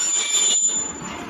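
Train passing as a radio drama sound effect in a German crime play, a loud close rushing roar with a high steady wheel squeal, fading slightly toward the end.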